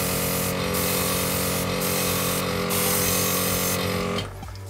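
An airbrush spraying paint, fed by a Sparmax Arism compressor, gives a continuous close hiss over the compressor's steady hum, with brief pulses of the spray before everything drops away at the end.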